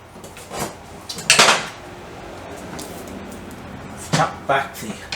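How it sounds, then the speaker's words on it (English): Sharp metallic taps on a lock washer on an old BSA motorcycle, a few bright clinks close by, in two brief clusters separated by quieter gaps, with a voice faintly in the background. "Tap back the lock washer."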